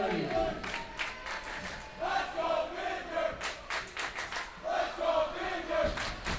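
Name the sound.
ice hockey crowd cheering to support the team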